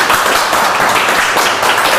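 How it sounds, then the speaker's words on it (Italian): A studio audience on an Italian Neapolitan song TV show applauds in a dense, steady wash of clapping that stays loud and even throughout, with no voices on top. "Un applauso!"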